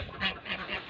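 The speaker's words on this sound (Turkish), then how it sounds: "Burada Ercan'ın ördekleri var." Three nasal quacks from farm ducks at a countryside farm, evenly spaced and fairly near, with no talk over them.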